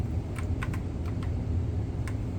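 Typing on the keyboard of a 2003 PC: about half a dozen quick, light key clicks in an irregular rhythm over a low background hum.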